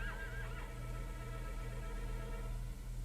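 Horses neigh and whinny near power cables after taking electric shocks, a couple of high wavering calls over a steady low hum and faint hoof clatter.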